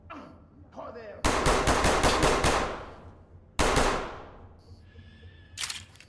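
Gunfire from the video game Ready or Not aimed at bots: two loud, sharp bursts of rapid automatic fire, each decaying into a tail, with faint voice-like sounds between and a brief crack at the end.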